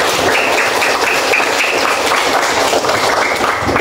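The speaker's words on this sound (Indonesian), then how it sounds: "Tepuk tangan dulu untuk semuanya." A classroom of students applauding during a maths lesson on integer addition and subtraction: a dense, steady wash of many hands clapping together, loud and continuous from start to finish.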